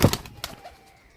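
Pigeons give a brief burst of wing flutter and a soft call or two, close and fairly quiet, fading within about a second.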